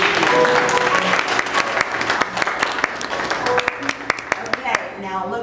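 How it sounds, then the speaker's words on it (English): Parents clap for young dancers at a ballet class recital, with a run of brisk, uneven handclaps close by and a voice talking over them throughout. "Y'all can clap,"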